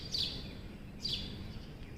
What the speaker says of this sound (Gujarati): ને મસ્ત ચકલા બોલે છે